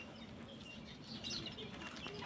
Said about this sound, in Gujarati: કેટલા બધા પક્ષીઓ આવ્યા છે।